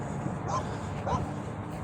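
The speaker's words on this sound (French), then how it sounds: "t'as les chiens qui aboient" Two faint, distant dog barks ring out about half a second apart beside a road, over a steady rumble of passing traffic.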